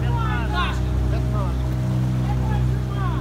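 A motorboat engine drones steadily and loudly on the water throughout a birthday outing, with people chattering over it.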